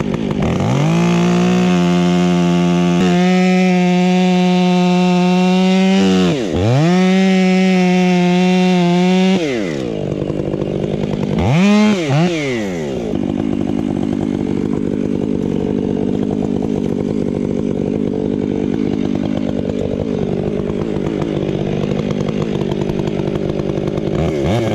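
Chainsaw cutting down trees during a Cumberland River cleanup, a loud, close engine whining and revving in bursts with pitch swings, then settling into a steady, rougher drone as it bites through wood.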